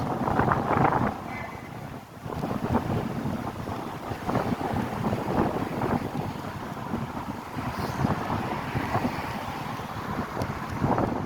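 Steady wind buffets the microphone in a dense rushing roar at Fort Myers Beach, Florida, about 3 to 4 knots, with gusts rising and falling throughout and no talking.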